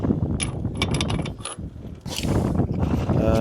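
Mechanical ratcheting from a socket wrench working on a truck, a busy clicking texture with sharp metallic ticks over steady low background noise, continuing through the short span.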